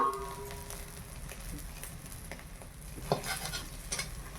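Eggs fry in a pan for a fried-egg curry in a village kitchen, with a quiet steady sizzle and occasional scraping stirs, close but faint.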